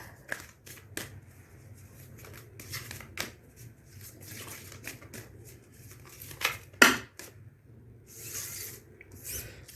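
Soft papery riffles and slides of tarot cards being shuffled by hand, a run of short brisk bursts close to the listener with quiet gaps between them and one sharper snap near the end.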